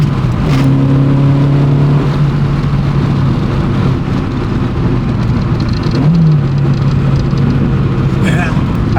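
A Peugeot 205 Rallye engine hums steadily from inside the car and swells as it accelerates, the note climbing near the end, with voices talking over it throughout.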